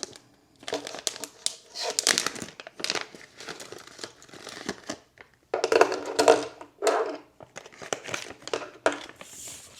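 Plastic packaging around a notebook and pens crinkles and tears in irregular bursts, close to the listener, with short quiet gaps between handlings.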